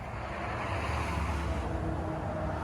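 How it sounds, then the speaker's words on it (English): A single car passes at a distance in the early-morning quiet, a low steady rumble that holds for a few seconds, faint and without any talk. "There's an early morning car going by."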